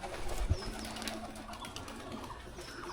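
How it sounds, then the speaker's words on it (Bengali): Pigeons from a home pigeon collection in Mollahat, Bagerhat, coo softly outdoors, a low, faint call heard once over quiet ambient background noise. "ওই যে ওই যে কবুতর একটা কবুতর"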